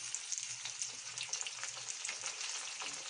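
Dry fruits fry in a pan with onion and spices, a soft, steady crackling sizzle heard close but quietly.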